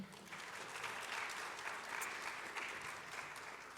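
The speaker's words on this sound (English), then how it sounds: "Please give a round of applause for East Georgia's own Mike Roundtree" A pageant audience applauds steadily throughout, a dense even patter of many hands clapping in a hall, heard at a moderate distance.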